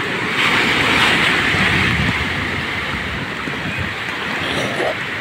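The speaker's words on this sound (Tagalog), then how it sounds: "Mahina na ang hangin" Wind blows by the sea: a steady broadband rush and buffeting mixed with surf, continuous and fairly loud throughout, with no voices.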